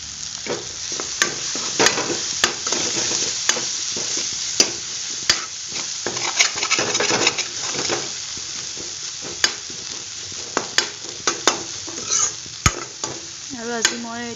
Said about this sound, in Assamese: এতিয়া এইখিনি মই ধুনীয়াকৈ ভাজি লওঁ 2-3 মিনিটমান সময়ৰ কাৰণে